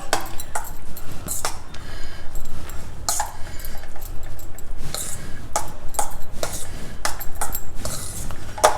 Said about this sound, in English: With a gentle hand, just mix everything well together. Preferably use a fork.